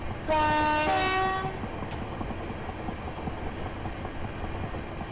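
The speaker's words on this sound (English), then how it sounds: "You'll hear the horn shortly." Horn of a Class 375 electric multiple unit in Train Simulator 2018, on a Southeastern London Victoria to Ramsgate service, one loud two-tone blast lasting about a second over the steady rumble of the moving train.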